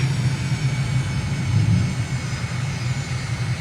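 Aircraft engine drone in Microsoft Flight Simulator as the throttle comes back on approach, a steady low droning hum with a faint high whine, continuous and fairly loud.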